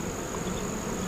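Honeybees buzz steadily inside an occupied hive during a winter check, a dense continuous drone close by with no voices over it.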